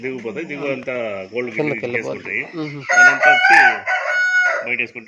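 Chickens cluck and a rooster crows nearby on a farm, loud and overlapping, while people talk over the birds.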